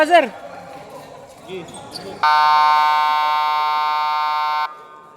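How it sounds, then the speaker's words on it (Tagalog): A loud, steady electronic buzzer blares for about two and a half seconds, cutting off sharply, after a few moments of talk and clatter. "buzzer"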